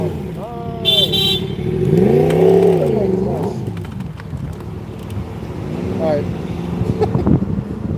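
A BMW motorcycle engine revs up and falls back in rising and falling swells, loud and fairly close, with wind buffeting the microphone and a voice talking at times.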